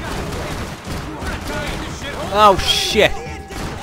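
Bursts of gunfire and crashing impacts from the video game Max Payne 3 pop out amid game action, loud and close, while a man exclaims over them.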